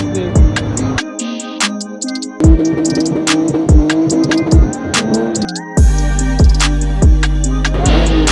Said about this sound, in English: Are you drifting over here, bro?